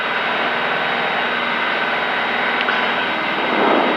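A Piper PA-28 single-engine plane's engine at takeoff power: a steady, loud, broadband roar that holds constant throughout, with no talking.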